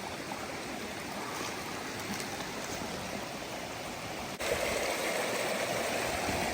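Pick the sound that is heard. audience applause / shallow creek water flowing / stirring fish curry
shallow creek water flowing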